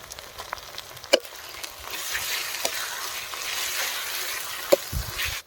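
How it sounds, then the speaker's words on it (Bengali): Spice paste of ginger, poppy seed and cashew fries in a pan for a Bengali doi katla fish curry, giving a steady low sizzle with a few sharp clinks of utensil on metal and no speech. "আমরা মশলাগুলোকে কষিয়ে নেব এখন পোস্ত আর কাজু বাটা দিয়ে দেব"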